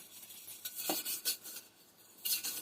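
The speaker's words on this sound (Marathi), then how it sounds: "तांब्याची गुंड ते घासून घेते," A copper water pot being scrubbed clean at a home sink in the morning, giving soft, faint rubbing and scraping with a few light metallic clinks, brief bursts spread across a quiet background.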